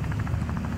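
In a video game, rhythmic chopping of a helicopter rotor with a low engine drone, steady and fairly loud, no voices.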